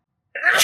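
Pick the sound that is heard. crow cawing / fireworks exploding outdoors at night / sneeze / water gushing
sneeze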